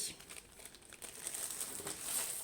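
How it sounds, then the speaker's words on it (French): Crinkling of plastic protective film on a 40 x 50 cm round-drill diamond painting kit being pulled at during unboxing, a soft continuous rustle with scattered crackles, close up and fairly quiet, no talking. "Et je n'arrive pas à ouvrir le film. C'est bien collé."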